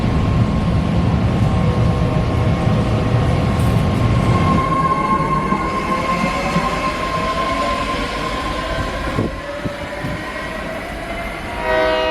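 A train rumbles loudly past nearby, with heavy clattering that gives way to a sustained horn-like tone and squealing wheels.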